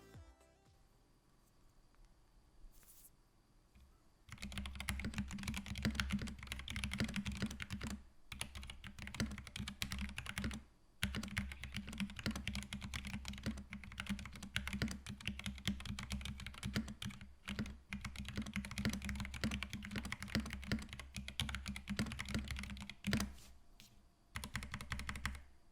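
Typing on an Epomaker GK96S wireless full-size keyboard produces a fast, steady clatter of close keystrokes running for over twenty seconds after a quiet start, with a few brief pauses and occasional heavier thocks.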